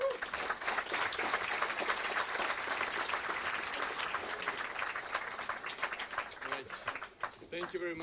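An audience at a blockchain meetup in Science Park Mjärdevi bursts into warm, sustained applause welcoming a speaker, dense clapping filling the room steadily before thinning out near the end as a voice begins.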